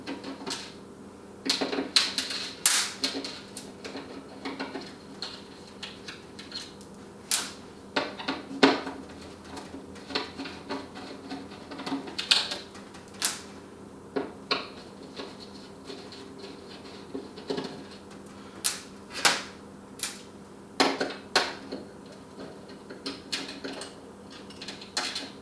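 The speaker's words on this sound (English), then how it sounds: "We have 4 Phillips screws that we're going to take out first." A screwdriver backs out Phillips screws from the handle mount of a Pellethead Poboy pizza oven during assembly, giving scattered sharp metallic clicks and taps with small clatters, close and fairly quiet, with no talking.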